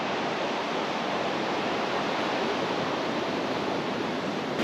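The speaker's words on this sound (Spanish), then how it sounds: "la marea sube prácticamente hasta las falecias y es muy loco" Surf and tide water wash against a beach that the sea covers right up to the foot of the cliffs, a steady, dense roar of breaking waves with no break and no voices.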